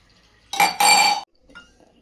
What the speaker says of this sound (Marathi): 1 ग्लास पाणी टाकून घेऊ आपण.